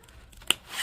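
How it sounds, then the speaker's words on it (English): A single crisp snip of scissors cutting up into the corner of a sewn fabric piece, short and close. Near-silence surrounds the snip, with a faint rustle afterward. "I'm going to snip right up into that corner, but I am not going to cut the thread."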